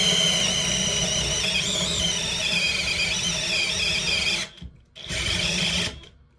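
A Bosch power tool spins hard and bites through material, a loud continuous whine with grinding squeal that stalls briefly as it binds, cuts out, then whirs up again before stopping.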